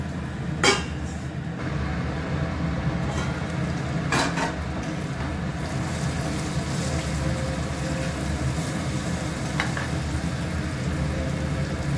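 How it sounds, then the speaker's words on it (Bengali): Eggplant frying in a covered pan gives a steady, low sizzle and bubbling hiss that runs the whole time, with a few sharper pops and clinks early on and no talking. "বেগুনটা ভাজা হয়ে গেছে"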